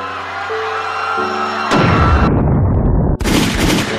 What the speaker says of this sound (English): You're not gonna get rid of a black hole using bullets.